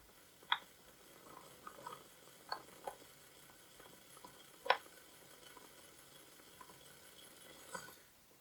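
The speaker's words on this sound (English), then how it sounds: "My wire is pointing this way, and that means I need to spin my bowl this way to get the beads to go onto my wire" Quiet scraping and tinkling of seed beads in a spinning bead spinner bowl as they slide onto wire, with soft rustling and a few sharper clicks from close by.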